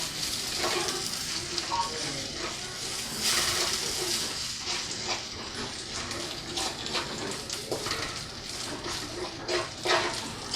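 Ketan serundeng mixture cooked in a pan over low heat, soft sizzling with repeated scraping and stirring strokes at an uneven rhythm, close and moderately quiet, no talk.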